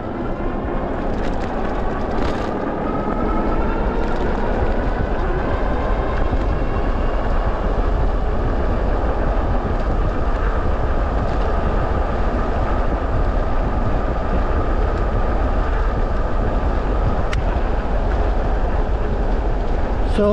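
A Luckkeep fat tire e-bike ridden at full throttle gives a steady, loud rush of motor whine mixed with heavy wind buffeting across the microphone, sustained throughout without speech.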